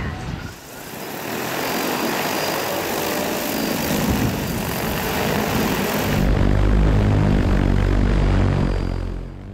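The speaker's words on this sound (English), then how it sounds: "we'll be seeding a hay field today with the Agris T40 drone" An Agris T40 agricultural seeding drone flies over a hay field, a loud steady propeller whine and wind-like roar that grows heavier partway through, with a person talking over it.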